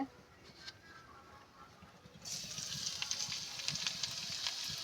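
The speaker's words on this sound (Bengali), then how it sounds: "এখন আমি রসুন আর পেঁয়াজটা ভেজে নেব তেল গরম হয়ে গেছে" Garlic and onion hit hot oil in a pan for a papaya mash, starting a sudden loud, steady sizzle after about two seconds of quiet kitchen background.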